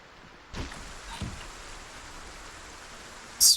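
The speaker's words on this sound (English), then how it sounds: "The rain hasn't stopped." Rain falls in the survival game Project Zomboid: a soft, even wash of rainfall with a couple of brief louder rustles early on and a sharp burst at the very end.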